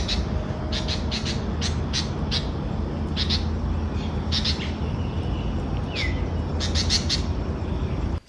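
A red-whiskered bulbul sings close by in a garden beside a house, its short bright whistled phrases repeating every second or so over a steady outdoor hum, with no talking.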